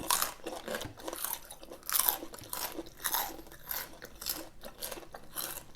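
Close, crisp crunching and biting while someone chews a spicy Thai pounded giant squid tentacle salad eaten with fresh raw vegetables, with a steady run of crackly bites over about six seconds and no talk.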